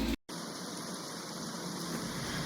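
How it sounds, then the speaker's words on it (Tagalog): Heavy rain pouring down during flooding, a dense steady hiss of falling water that fills the whole stretch after a brief cut near the start. "Ayan, ang lakas ng ulan, baha."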